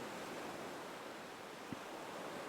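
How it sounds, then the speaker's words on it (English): Ocean waves break against rocks below a high vantage point, a soft, distant, steady wash of surf with no distinct crashes and no voices. "I can hear the ocean waves crashing against the rocks beneath us,"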